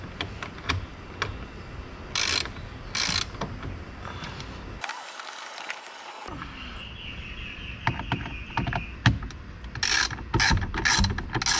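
A ratchet wrench removing 10mm bolts from the dashboard of a 2008 Proton Inspira / Mitsubishi Lancer: bursts of quick metallic clicking between intermittent ticks, close-up, with a brief silent gap midway.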